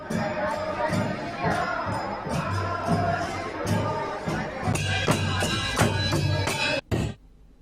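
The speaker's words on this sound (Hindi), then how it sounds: "देखिए तालियां एक दूसरे के लिए" A crowd at a village Holi celebration run by a Ramlila committee in Uttarakhand claps and cheers amid busy hubbub and voices, with music-like tones underneath, the clapping growing denser toward the end before a sudden cut.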